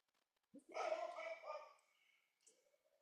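A dog barks once indoors in the background, a faint, drawn-out bark followed by a short whimper, heard alone during a quiet pause.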